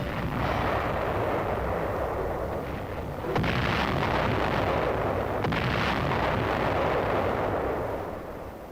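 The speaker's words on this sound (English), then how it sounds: "floating artillery holds back an enemy" Artillery firing from floating guns in a harbor during the Korean War booms as a continuous dense roar. Two sharper blasts break through the rumble.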